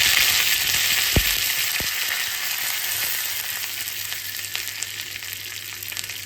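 Cumin and mustard seeds with curry leaves frying in a spoonful of hot oil for tempering, a loud, steady close-up sizzle with a few faint pops and clinks.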